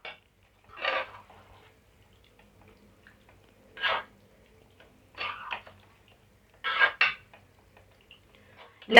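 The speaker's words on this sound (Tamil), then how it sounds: "மிக்ஸ் பண்ணிக்கணும்." Chicken liver curry masala with a little water added is stirred in a pan, giving five separate bursts of spoon scraping against metal with quiet gaps between them, close and moderately loud.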